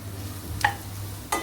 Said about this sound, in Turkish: Biraz biber ve soğan yumuşayıncaya kadar şöyle karıştırıyorum